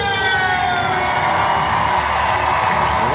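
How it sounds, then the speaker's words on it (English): Home crowd at Scotstoun cheering loudly as the Glasgow Warriors women's side runs out for a rugby match, a dense, sustained roar with a high whistling tone carried on top, steady throughout. "just wait for the crowd noise here"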